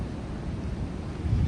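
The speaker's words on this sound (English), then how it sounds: "Oh my gosh, the wind is whipping up there." Strong wind on an exposed mountain hike near a summit buffets the microphone with a steady, close, low roaring rumble.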